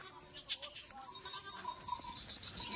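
Kathewadi goats and sheep from a newly arrived livestock truck bleat faintly over distant outdoor background noise, with a few short calls scattered across the few seconds.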